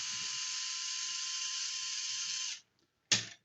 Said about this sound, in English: You can release the screws. Again, I'm doing it with the screwdriver.